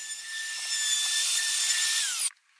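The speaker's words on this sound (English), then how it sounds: "the infill pieces were brought back, divided into pairs, back to back, and also routed with the 45-degree bevel" A router cuts a 45-degree bevel along paired wooden gate infill pieces, a steady high whine with a continuous rasping cut that holds evenly, then drops in pitch and stops abruptly near the end.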